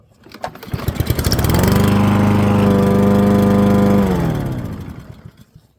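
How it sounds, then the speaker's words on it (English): Poulan Pro gas walk-behind lawn mower starting on a single pull, its engine quickly rising to a loud, steady running drone close by, then cutting off and winding down near the end. "And it starts with 1 pull."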